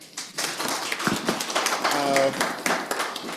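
A conference audience claps for a panel on climate, migration and mobility, a burst of applause that rises and swells over a few seconds while a voice speaks over it.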